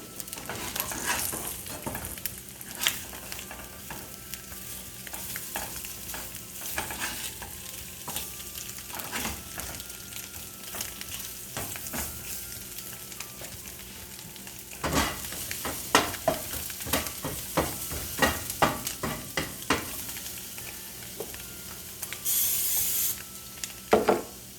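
Food fries in a pan seasoned with garlic powder, giving a constant close sizzle and hiss broken by scraping, stirring and clattering from a utensil.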